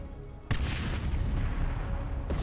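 Ordnance strikes in Warhammer 40k Dawn of War II land as a sudden heavy blast, then a sustained rumbling roar of explosions, with a second impact arriving near the end, loud and close.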